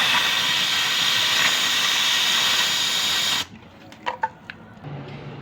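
Compressed air blown through an engine to force out old engine oil, a loud continuous hiss for about three seconds that cuts off abruptly, followed by a few light metallic clicks.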